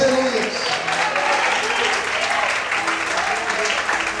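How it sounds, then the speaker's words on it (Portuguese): A church congregation applauds loudly during worship, a dense, steady wash of clapping that fills the whole stretch without letting up. "Será que você pode aplaudir e adorar o Senhor bem forte?"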